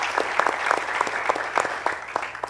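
Audience at a Shark Tank–style ChangeMakers event applauds a judge, steady mid-level clapping from a moderate crowd with some individual claps popping out, continuous throughout.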